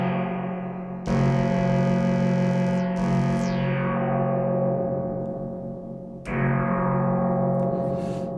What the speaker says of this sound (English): You know that sound, even if you didn't know it was a spring reverb, you've heard it before.